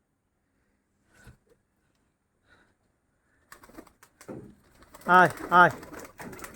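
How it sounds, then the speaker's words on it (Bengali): Pigeons in a backyard pigeon house give a few faint, scattered coos, while a man nearby loudly calls out to them as he opens their door to feed them. "অনেকগুলি কবুতর আছে"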